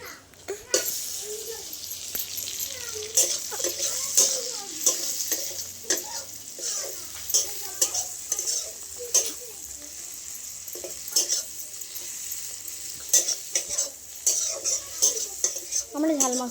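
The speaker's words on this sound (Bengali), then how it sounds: "পেঁয়াজ দিয়ে ভালো করে আমি মশলাটা পাকিয়ে নেব।" Masala with onions and tomato fries in a pan under busy stirring, with repeated spoon-on-metal scrapes and clinks over a steady sizzle, and a voice occasionally audible nearby.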